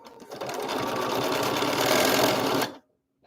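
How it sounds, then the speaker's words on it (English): A sewing machine runs in one steady, fast burst as it stitches two fabric pieces together along a line, close and loud, then stops abruptly. "And then sew on that black solid line"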